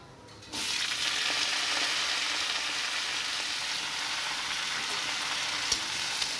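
Vegetables with bottle gourd leaves dropped into a hot pan, bursting at once into a loud, steady, close sizzle that carries on evenly with a couple of small stirring knocks, no voices.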